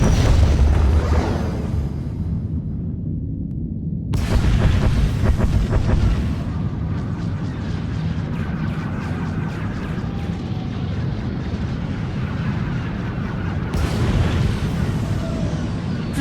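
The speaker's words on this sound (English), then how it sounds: "proceeding with bombardment, targeting all major population centers" Space fleet bombardment in the Star Wars: The Old Republic game booms as a heavy, continuous rumble of explosions, with deep surging blasts and swells, including a strong burst around four seconds and another near fourteen seconds.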